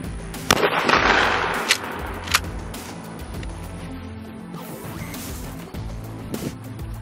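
A Mossberg 500 pump shotgun fired on an outdoor range at a target 5 yards away, giving a few loud, sharp blasts with echoing tails and spaced gaps between the shots.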